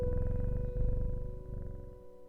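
A cat in the video game Strange Horticulture purring steadily while being petted, a close, continuous rumbling purr with a faint tonal hum behind it.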